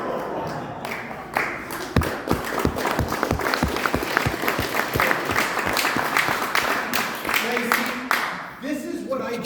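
An audience at a magic show breaks into loud, sustained applause, dense clapping swelling and then tapering near the end, with a voice speaking over it.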